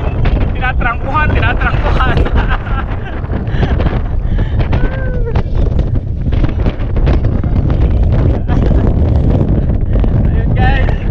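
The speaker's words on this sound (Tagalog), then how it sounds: "Salubong kami sa hangin. Ang lakas ng hangin kasi." Strong headwind roars across the microphone in continuous heavy buffeting as a group of cyclists rides along a mountain bike trail at Villa Verde Trail in Pangasinan, loud and unbroken throughout, with people talking faintly underneath.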